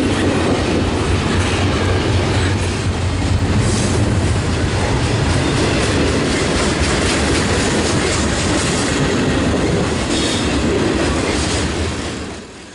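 A CN freight train hauled by C44-9WL locomotives rumbles past close by, heavy engine drone under steady clickety-clack of wheels over rail joints, fading slightly at the end.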